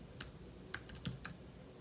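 Someone types a hashtag on a computer keyboard: a quiet, irregular run of separate keystroke clicks, close and with no voices.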